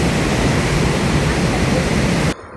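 Niagara Falls roars as a dense, steady rush of falling water, loud and unbroken, then cuts off abruptly near the end.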